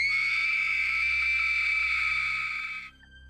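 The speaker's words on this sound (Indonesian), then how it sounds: "Tiba-tiba dari kamar Kayla kedengeran teriakan kenceng." A loud, sustained scream effect for a horror story holds one piercing high note for nearly three seconds, then cuts off abruptly, with no talk over it.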